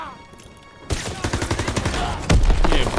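Gunfire in the World War II shooter game Call of Duty: WWII, a quieter stretch giving way to loud, rapid bursts of shots with a heavy blast near the end, no talking.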